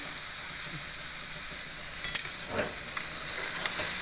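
Amla pickle mixture with sugar is sautéed in a pan, giving a steady, bright sizzle with a few sharp clicks of a spoon against the pan and soft stirring scrapes toward the end.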